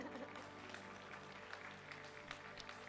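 A church congregation applauds together during a Spanish-language worship service, a steady wash of clapping filling the room at moderate level with faint speech mixed underneath.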